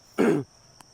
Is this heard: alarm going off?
no